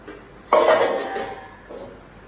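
A metal cooking pot clatters in a home kitchen, one sudden bright clang that rings and fades over about a second, followed by a softer scrape.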